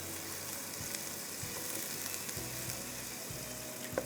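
Crushed garlic sizzling in hot oil with onions already softened to translucent, a steady dense crackle with a few soft stirring knocks, close and fairly quiet throughout.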